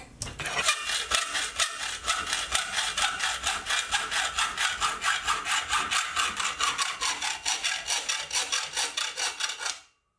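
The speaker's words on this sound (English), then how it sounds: "my preferred method is to double side tape it to a piece of scrap wood or MDF and cut it in the mill" Milling machine cutting extruded aluminium angle taped to scrap wood or MDF: a steady, rapid rhythmic rasping and chattering, loud and close, running continuously before stopping abruptly.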